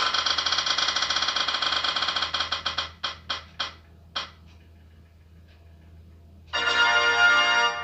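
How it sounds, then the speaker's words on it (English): Prize wheel spinning for a book-recommendation pick: a fast ratcheting clatter of rapid clicks that slows, spaces out into a few final ticks and stops, then a bright jingle-like chime sounds. "Let's spin for the 7th book again."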